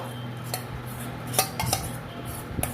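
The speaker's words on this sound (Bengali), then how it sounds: "এবারে আমি সুজিটা এর মধ্যে দিয়ে দেব।" Soaked semolina goes into a bowl, marked by a few sharp metal clinks of a spoon against the bowl, close and spaced apart, over a faint steady kitchen hum.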